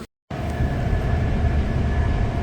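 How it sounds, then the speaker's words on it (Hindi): A German passenger train cruises at about 156 km/h, heard from inside as a loud, steady roar and rumble of wheels and rails after a brief silent gap at the start. "ये है जी ट्रेन जिसमें हम सफ़र कर रहे हैं और इस वक्त ये 156 किलोमीटर पर आवर की स्पीड के साथ ये ट्रेन चल रही है"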